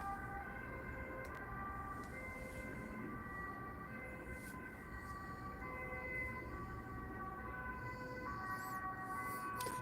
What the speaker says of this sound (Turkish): Ambulans gidiyor.